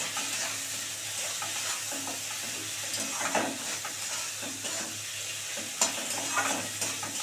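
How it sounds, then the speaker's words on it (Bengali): Paneer ghugni sautéing in a pan, a close steady sizzle with repeated scraping and stirring strokes of a spatula, a few sharper knocks, and no one speaking. "এবার এটাকে ভালো করে কষাবো।"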